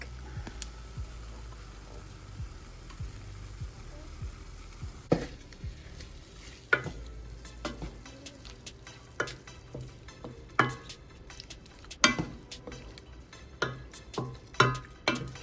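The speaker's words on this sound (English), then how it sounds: "And you're just gonna brown that chicken all up." Quiet, steady sizzling of seasoned chicken browning in a frying pan, punctuated by scattered clicks and taps of a utensil stirring and turning pieces.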